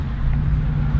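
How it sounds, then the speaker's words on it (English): Straight-piped Holden SV6 Commodore V6 exhaust idling, a deep, steady low rumble with a slight lope, close and continuous for about a second with no talk. "It sounds like a V8, like a cammed V8 at idle."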